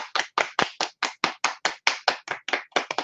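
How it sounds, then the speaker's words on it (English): Hands clap in a quick, steady rhythm: about sixteen sharp, close claps in a row, with no talk. "can you please clap for me?"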